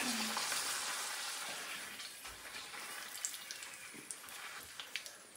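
Pappadam frying in hot oil, a bright hissing sizzle that fades gradually, then small sharp crackles and pops toward the end, with a faint voice in the background.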